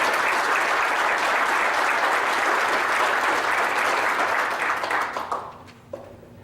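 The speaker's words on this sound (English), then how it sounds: "Let's give them a round of applause." Loud, sustained applause from a large crowd at a sports hall of fame ceremony fills the space, then tapers off and fades near the end.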